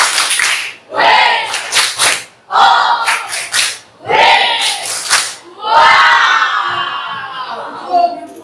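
A class of children does the "tepuk wow" chant in a classroom, shouting rhythmic bursts in unison with sharp group claps, then a longer loud cheer at the end.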